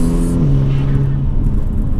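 Tuned 560 BHP BMW M4 convertible with SSR intakes, its engine holding a steady, loud low drone with a brief pitch drop near the start, close and continuous with no talk.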